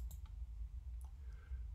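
A few faint, sharp computer mouse clicks sound at intervals against a low background hum.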